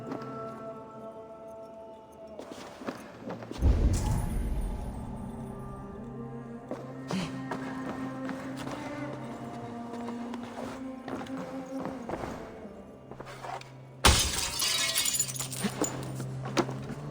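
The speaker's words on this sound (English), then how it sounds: "Oh, I guess it's just smashing through here." A barrier is smashed apart in Assassin's Creed Valhalla, with a loud crash of breaking wood and debris followed by scattered clatter, then a second sharp burst of shattering later over ambient game tones.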